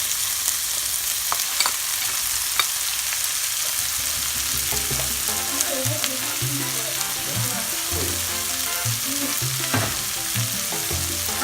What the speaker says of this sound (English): So we're gonna stir fry them for 1 to 2 minutes until the onions become translucent.